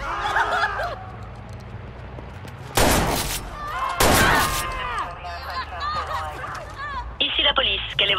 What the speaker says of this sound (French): Ah, c'est une fusillade!